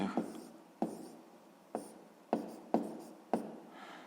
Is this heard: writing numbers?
yes